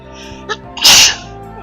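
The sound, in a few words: sneeze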